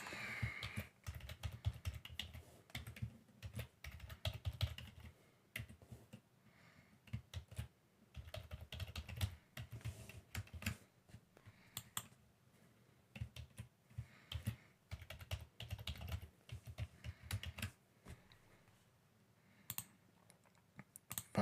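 Keys clack on a computer keyboard in quick irregular bursts with short pauses while a new password is typed, close and moderately quiet.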